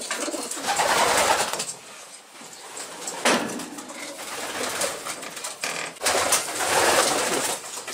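Racing pigeon hens cooing in a loft, soft layered coos and bird calls rising and falling in several swells, close and steady with no talk.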